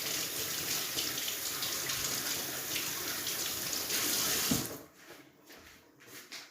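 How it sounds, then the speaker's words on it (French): Running tap water pours steadily as frozen salmon fillets are rinsed and rubbed clean in a kitchen sink, a close hiss that stops abruptly near the end, leaving faint handling noises. "je les passe sous l'eau, je les frotte, je les nettoie."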